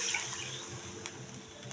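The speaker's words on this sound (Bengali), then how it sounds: "দিয়ে দেবো জল।" Water splashes and gurgles as it is poured into a cooking pot on the stove, a soft continuous trickle with small splashes, close and fairly quiet, no talking.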